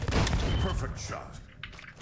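Turret gunfire in the Squadblast game: a loud burst of booming shots at the start, fading into a rumbling tail with a few sharper pops, mixed with game noise.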